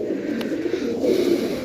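Pigeons coo softly in a loft, low throaty murmuring calls running steadily at close range with a brief faint click, no voices over them.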